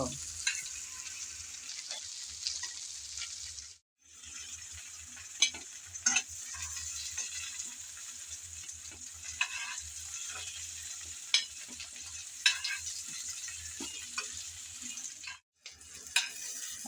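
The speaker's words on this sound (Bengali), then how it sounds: "একটা একটা করে সবগুলো চিংড়ি আমি ভেজে তুলে নিলাম" Prawns frying in hot oil in a pan give a steady, close sizzle for the whole stretch, broken by the clicks and scrapes of stirring and turning, with two brief drops into near silence.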